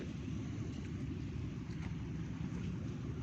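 Strong wind at a beach in Tanjung Uma, Batam, a dense, steady low roar and rumble buffeting close to the microphone, continuous throughout with no pauses.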